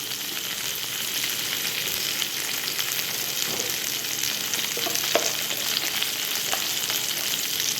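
Sliced okra frying in hot oil with salt, turmeric, chili powder, coriander powder and kuzhambu masala for a South Indian kara kuzhambu: a loud, steady sizzle close up with a few faint stirring clicks.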